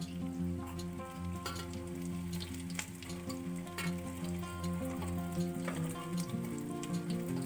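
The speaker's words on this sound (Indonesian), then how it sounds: "Kemudian kita goreng sampai matang." Vegetable-stuffed tofu fries in hot oil, giving a continuous crackling sizzle with scattered pops, close and steady with no talking.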